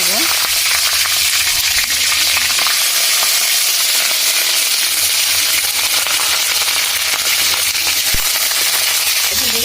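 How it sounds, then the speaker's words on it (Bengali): Cauliflower pieces fry loudly in hot oil, a dense, unbroken close-up sizzle with occasional sharp pops and crackles. "তো এখন আমরা এই তেলের মধ্যে দিয়ে দিচ্ছি কপি, ভেজে নিব।"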